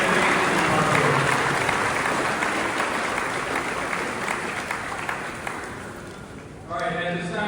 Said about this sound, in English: Let's give them all a round of applause for all their dedication and hard work.